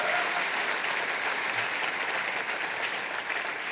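Steady applause from a lecture audience in a hall at Church House Westminster, dense and even throughout with no voices over it.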